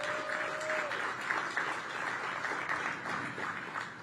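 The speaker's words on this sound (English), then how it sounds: "Give them a round of applause, please." A crowd at an outdoor groundbreaking ceremony for a new community space applauds in a steady, moderately loud wash of clapping that holds for about four seconds, with a brief high tone at the start.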